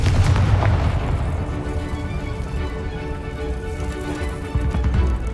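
A Confringo fire spell explodes in Hogwarts Legacy with a deep, rumbling blast that swells at the start, holds as a heavy low roar, and flares again near the end.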